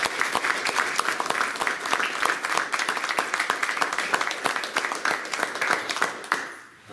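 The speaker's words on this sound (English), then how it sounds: "I'd like to give them a round of applause" Audience at a legislative preview forum giving a sustained round of applause, dense and even with sharp individual claps, dying away at the end.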